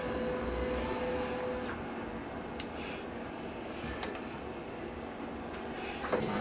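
An inkjet printer with a refillable ink tank runs a print head cleaning cycle, giving a low mechanical whir and hum with a few faint clicks and shuffles throughout, close by and without speech.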